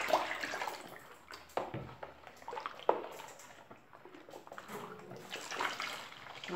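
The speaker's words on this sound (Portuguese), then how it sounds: "Agora nós vamos colocar água." Water pours into a large batch of homemade liquid soap with baking soda, a quiet continuous splashing stream with a few sharp clinks and knocks of containers.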